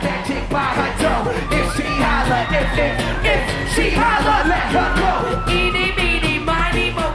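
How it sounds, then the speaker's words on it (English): A crowd roars and shrieks over loud music at a basketball media day, with high-pitched screams rising above the din throughout. "Did you hear the girl scream?"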